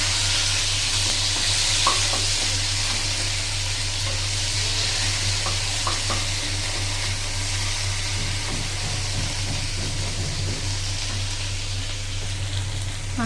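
Chopped tomato sizzling in a pan of hot whole garam masala spices, a steady loud frying hiss with faint scraping as it is stirred, continuous and close with no talk.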